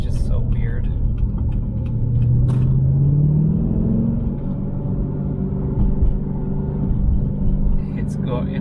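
A car engine pulls steadily in 2nd gear at around 3,000 rpm on a first drive after a phase lock install, a continuous loud rumble with rising and falling tone while a person talks over it.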